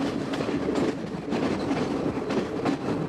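A passenger train in Sri Lanka rolls along with a steady clickety-clack of wheels over rail joints, repeating in an even rhythm under a constant rumble of the carriage, heard from inside with no talking.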